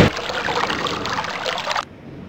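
Water effect from the video game Myst, a steady trickling, pouring stream that runs evenly for nearly two seconds and then cuts off abruptly, leaving faint low background.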